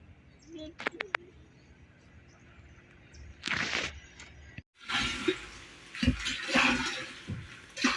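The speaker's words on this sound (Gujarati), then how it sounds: "સો ગાઈસ પાણી આવી ગયું છે." Water gushes from a tap and fills a container, a bursting rush that starts abruptly and keeps running with gurgling surges, after earlier faint clicks and a short spray.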